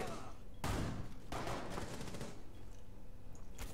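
Rapid bursts of automatic gunfire crackle through a Rainbow Six Siege ranked match, two dense volleys followed by lighter trailing shots and background game noise.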